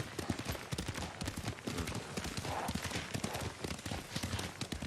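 Horse hooves clip-clop in a steady rapid gallop while riding in the video game Ghost of Tsushima, a continuous rhythmic pounding with faint background ambience.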